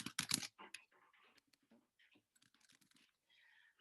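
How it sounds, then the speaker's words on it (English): Keys clack on a computer keyboard in a quick, irregular burst of taps, close and fairly quiet, with short pauses between strokes. "So I can easily type something again."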